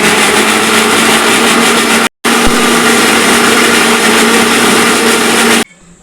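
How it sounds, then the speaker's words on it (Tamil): A kitchen mixer grinder blends banana with sugar, a loud, steady high-pitched whir that runs continuously, cuts out for a split second, resumes, then stops abruptly near the end. "நீங்களும் மிக்சியை போட்டு அரைச்சிக்குவோங்க"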